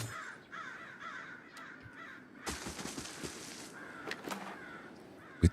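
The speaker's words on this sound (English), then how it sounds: "crow sounds, this all of a sudden became very Fallouty" Crows caw repeatedly in the video game Pillars of Eternity, their harsh calls fairly clear over a faint ambient backdrop, with a sharp low thump near the end.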